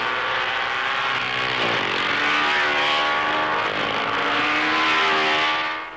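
Gilera racing motorcycles at the 1954 Dutch TT at Assen, with a loud, sustained, buzzing engine roar whose pitch shifts as the machines race past, continuous and close.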